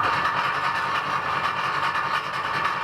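A Wessex rock tumbler's motor drives worn nylon geared splines with some broken teeth, producing a steady, close mechanical hum with a faint rhythmic pulsing throughout.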